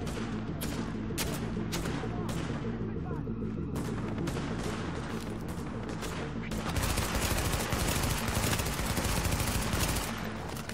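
Dense, rapid gunfire from a video game, Tom Clancy's The Division, with heavy recoil on the weapon. The bursts pound continuously and loud, growing busier toward the end, with someone talking over them.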